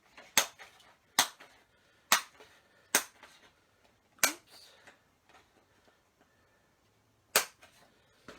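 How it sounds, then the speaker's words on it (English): Small hand punch snapping through black card, six sharp isolated clicks at uneven intervals, close and crisp against a quiet room. "I'm sorry about the noise of that little punch."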